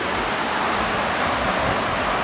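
Nanny Falls in Jamaica roars as a constant broad rush of falling water, loud and close, filling the air without a break.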